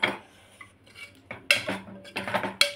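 Bottle gourd curry being served with a utensil, a few close clinks and scrapes of metal against a pot and plate in uneven bursts, with no voices.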